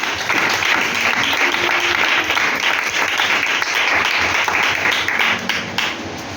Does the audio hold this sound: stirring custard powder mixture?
no